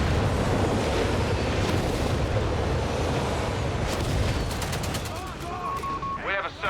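A Nebelwerfer rocket barrage crashes into a Company of Heroes 3 battle, a dense roar of rapid explosive bursts and gunfire. Sharp whistling streaks come near the end, and a voice talks over the din.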